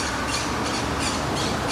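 Parrots squawk around their nests in trees after a destructive storm in Buenos Aires, harsh repeated cries over a dense, loud noisy wash of outdoor sound.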